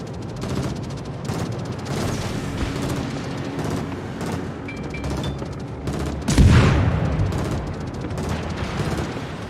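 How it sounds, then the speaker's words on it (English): Anti-aircraft machine guns aboard a warship in World of Warships fire in dense, continuous bursts, a loud rattling barrage with a heavier boom near the middle and no voices. "My AA is, my anti-air is basically just a bunch of guys with machine guns."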